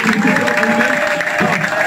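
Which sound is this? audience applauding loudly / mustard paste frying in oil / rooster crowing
audience applauding loudly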